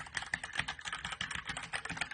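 Rapid typing on a Blitzwolf BW KB1 mechanical keyboard, loud clacky keystrokes in a quick uneven rhythm, close up and alone with no voices.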